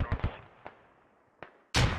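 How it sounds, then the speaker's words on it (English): A grenade explodes in a tactical shooter video game, ending a short sequence: a few scattered sharp pops from distant gunfire, then one loud, broad burst of the blast that rumbles on to the end. "Nade goes out. Just far."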